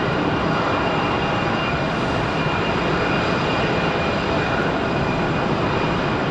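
Airliner arriving at Raleigh-Durham International Airport, a loud, steady broadband engine roar holding close and constant throughout with no talk.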